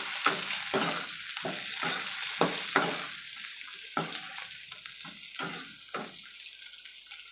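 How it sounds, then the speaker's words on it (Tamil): Sliced onions sautéing in a pan for a thin roadside-style thanni chutney, a soft steady sizzle broken by repeated sharp scraping and stirring strokes of a spoon against the pan. "வெங்காயத்தை சேர்த்து வதக்கிக்குவோம்."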